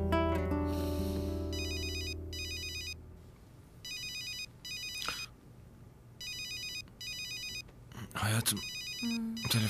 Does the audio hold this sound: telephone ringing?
yes